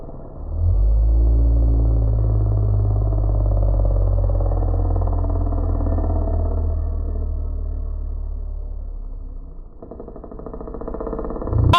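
Kids' 65cc motocross bikes racing on a dirt track, a loud continuous low engine roar that swells and slowly fades, then a sharper revving rise near the end.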